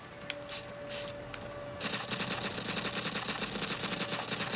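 An M9 pistol fires in three-shot bursts in a video game. A few scattered shots come first, then rapid, evenly spaced reports follow at moderate volume with no voices.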